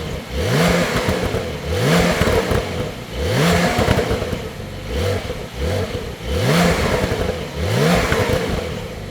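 A Porsche 992 911 Carrera S engine revs repeatedly, about five rising bursts in a steady rhythm, loud and close with idle rumble between.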